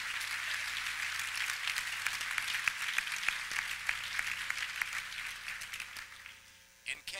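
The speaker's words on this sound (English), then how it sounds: "could you all please join me in giving a round of applause for the masochistic presenters who are all lined up here" A crowd applauds the presenters lined up on stage, a thick, continuous wash of clapping that carries on steadily before tapering off near the end.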